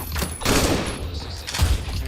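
Enemy gunfire in a video game, a short burst of rapid shots followed by a heavier thump near the end, close and fairly loud.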